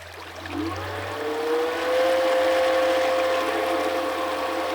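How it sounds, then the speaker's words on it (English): An Aquastrong Smart 45 whole-house water pressure booster pump starts and spins up, its motor tone rising into a steady loud whine as water is pushed up the pipe to a tank. "I hear water going up the pipe."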